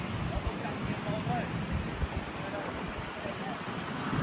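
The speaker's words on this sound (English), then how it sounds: "That's just the wind." Steady wind gusts buffet across murky water by a waterside spot in Vietnam, a dense, rough rushing that holds constant throughout, with faint voices underneath.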